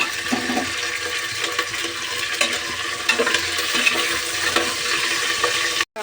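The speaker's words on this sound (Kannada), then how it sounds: "ಫ್ರೆಶ್ ಆಗಿ ಕರಿ ಲೀಸ್ ಹಾಕ್ತಾ ಇದ್ದೀನಿ" Fresh-picked curry leaves sizzle and crackle loudly in hot oil, with sharp pops and occasional stirring scrapes throughout.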